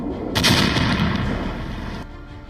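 Russian bombing with phosphorus bombs produces a loud, close explosive blast that gives way to a sustained rumbling roar, which fades over about two seconds.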